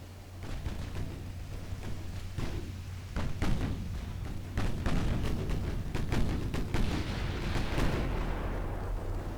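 Naval artillery shells fire in the warship video game Ultimate Admiral Dreadnoughts, heard as a dense, continuous barrage of booms and thuds, some near and heavy, others layered further off, with no talk.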